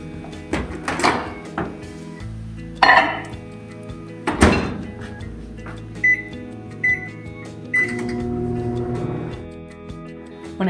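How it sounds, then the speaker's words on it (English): A microwave oven heating chocolate in a silicone tray, with a door thunk, a steady hum and a few short beeps, all fairly close and without talk. "Let's put these in the microwave."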